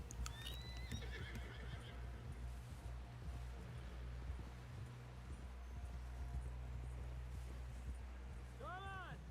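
A horse in Red Dead Redemption 2 whinnies at the start and again near the end, while hooves clip-clop steadily over a low background hum throughout, with faint speech mixed in.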